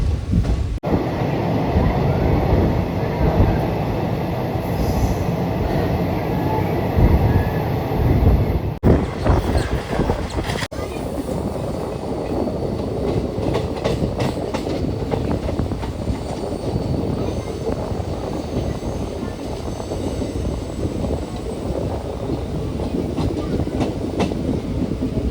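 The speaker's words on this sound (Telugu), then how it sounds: "తిరువనంతపురం సెంట్రల్ వెళ్ళే వందే భారత్ ట్రైన్ ఇది" A Vande Bharat train bound for Thiruvananthapuram Central running on rails, a loud continuous rumble of wheels with rhythmic clatter and a brief shift in tone partway through, heard close up.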